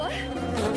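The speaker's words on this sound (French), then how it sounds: "Phoebe, il y a tellement des abeilles." Bees buzz close by in a dense, droning hum that rises slightly in loudness toward the end of the brief moment, with no voices over it.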